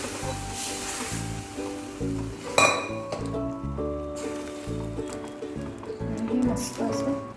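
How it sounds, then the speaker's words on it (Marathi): A spoon stirs ragda, a spiced pea curry, in a pot, making repeated light clinks and scrapes against the metal with soft bubbling and kitchen background noise. "मस्त असं ढवळून घ्यायचं"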